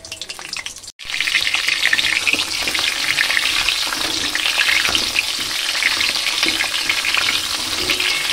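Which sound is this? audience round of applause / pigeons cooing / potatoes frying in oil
potatoes frying in oil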